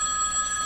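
A phone rings with a steady electronic bell trill, sustained and fairly loud, with no talk over it.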